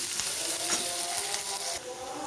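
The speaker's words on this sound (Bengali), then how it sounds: "পেঁয়াজটাকে হালকাভাবে ভেজে নিচ্ছি" Onion lightly fried in a pan for a poppy seed and ridge gourd dish, a close, continuous sizzle with soft stirring scrapes and no voices.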